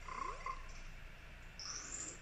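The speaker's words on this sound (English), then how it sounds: "it's just a little mini frog." A tiny frog in Majora's Mask 3D gives a few quiet, short chirpy croaks over a soft game ambience, brief and faint with no talking.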